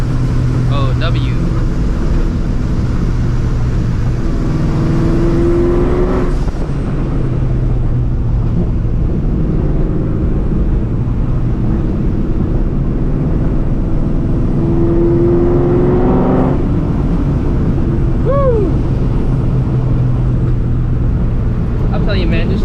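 A supercharged 2004 Ford Mustang GT cruising through alleys, its engine droning steadily with a deep rumble and a couple of rising revs, while someone talks over it throughout.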